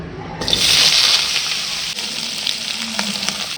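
Tomatoes and chutney ingredients for a South Indian dosa chutney go into hot oil in a pan, with a sudden loud sizzling hiss that settles into steady frying, close up, no talking.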